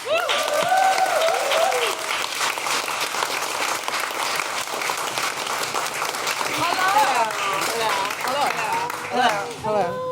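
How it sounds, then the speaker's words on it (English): Applause from a live podcast audience greets a stand-up comedian guest, a dense crowd clapping throughout, with cheers and whoops rising over it, loudest near the end. "Please, a big round of applause for Mary Lynn Rajskub."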